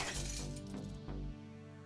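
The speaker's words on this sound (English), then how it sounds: "The sound of glass breaking." Glass shattering in the visual novel game Fate/Stay Night, a sharp crash followed by ringing, tinkling shards that decay over about a second, moderately loud and heard alone.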